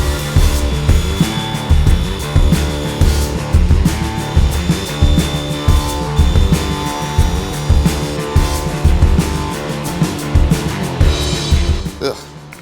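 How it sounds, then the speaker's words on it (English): A PVC tube is cut down by hand, the saw rasping in steady, rhythmic strokes that stay loud and close throughout before stopping just at the end. "I hate cutting PVC"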